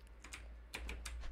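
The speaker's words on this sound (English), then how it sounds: "keyboard." Faint keystrokes on a computer keyboard during a gaming livestream, a few scattered clicks in short bursts over a low steady hum, with no talk.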